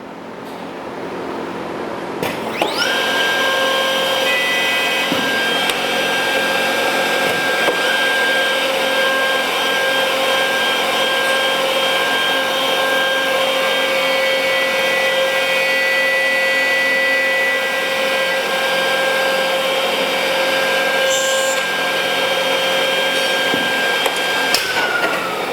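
A 965X cutting machine runs a live cut during calibration, clamped on the workpiece. It gives a loud, steady mechanical whine with sustained tonal hum that starts abruptly and continues without a break for over twenty seconds.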